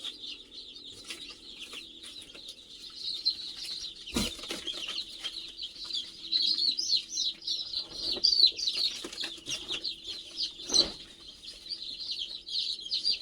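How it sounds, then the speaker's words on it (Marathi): Native village chicks, a pure multicoloured country breed, chirp nonstop inside a paper-lined brooding box, a dense, steady chorus of high peeps with occasional louder calls and brief scuffles. "चला आता आपण पिल्लं टाकू याच्यात जे काय आपल्या मधून पिल्ल निघाले होते ते पिल्ल टाकू"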